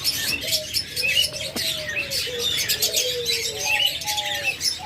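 Caged pet birds, budgerigars and lovebirds, chirp and tweet in a busy overlapping chorus, with a few longer cooing or whistled notes threading through close by.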